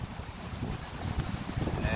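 Rough, stormy sea and gusting wind at the shore, a steady broadband roar of surf with wind buffeting the microphone, fairly loud and continuous, with some low voice-like murmur underneath.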